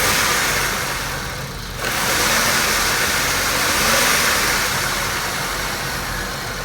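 A Chevrolet Malibu fleet car's engine runs steadily at idle, a continuous close mechanical drone with a brief dip before settling back to an even hum.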